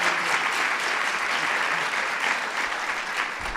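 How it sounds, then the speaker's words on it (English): Sustained audience applause fills the room at a Celebrating Women of the Movement gathering honoring a panel of women, a dense, steady clapping that holds at an even level from start to finish. "let's give these extraordinary ladies a round of applause"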